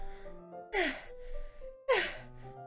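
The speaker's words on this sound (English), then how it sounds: "A sharp inhale, like someone is sucking air through their teeth." A sharp inhale sucked through the teeth in the video game Doki Doki Literature Club, heard twice as close, hissing gasps over a faint tonal background, with quieter breathing between.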